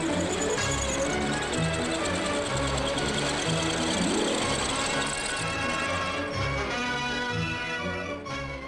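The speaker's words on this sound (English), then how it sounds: "the large circular cutters return to machine the end face" Large circular cutters machine the end face of an engine block on a 1950s production line, a steady, dense mechanical whir and grinding clatter that stays loud and continuous throughout.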